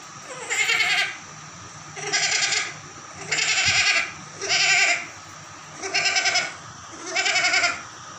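A child repeatedly imitates a goat bleating, six wavering cries spaced about a second apart, close and fairly loud.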